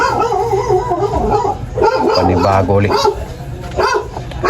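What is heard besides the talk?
dog barking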